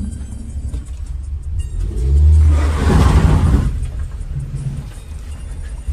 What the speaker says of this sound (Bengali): এই স্লোপের জায়গায় এখানে একটা মোমেন্টাম ক্যারি করতে হয় গাড়ি ওপরে যাওয়ার জন্য